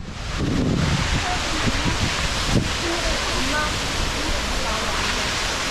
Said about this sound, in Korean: 다음 올레길 코스인 정방폭포입니다